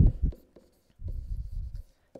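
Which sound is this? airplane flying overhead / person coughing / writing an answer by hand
writing an answer by hand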